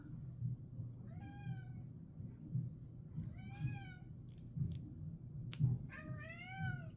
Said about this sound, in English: What are you meowing at, kitty?